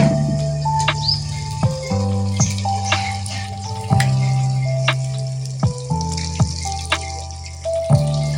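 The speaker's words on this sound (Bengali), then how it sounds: "এখন আমি মাংস দিয়ে দেবো" Chicken meat fries in masala in a pot, giving a soft steady sizzle broken by several sharp knocks and scrapes of a spoon. A low hum sits under the cooking and no one speaks.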